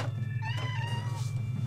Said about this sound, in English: Why are you meowing at me?